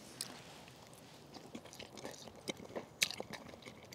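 Someone chewing sausage with sauerkraut outdoors by a lake, soft close crunches and bites in an irregular rhythm, quiet, with no talking.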